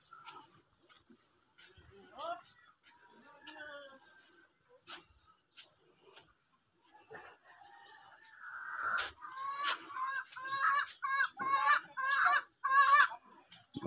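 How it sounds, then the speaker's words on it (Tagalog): Backyard pet chickens clucking as they are fed grain in the morning, a few soft calls at first, then a dense run of close, loud clucks and squawks in the second half, with people talking now and then. "pinapatukan na po ni Ngoy ang kanyang mga alagang manok"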